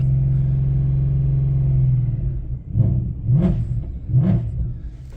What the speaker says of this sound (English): Love how this car sounds.